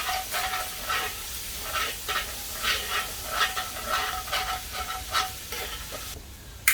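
Onion and celery fry in a pan as a utensil scrapes stuck bits off the bottom, a continuous hiss broken by rhythmic scraping strokes at close range.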